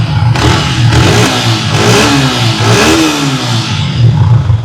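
Indonesian Yamaha R15 V3 motorcycle with 21,000 km and a fresh-condition engine revving up close, several rising throttle blips over a loud idle, with no talk.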